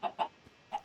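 Chickens in the Minecraft video game (version 1.1) clucking on a ranch, three short clucks in quick succession, clear and close with no talking.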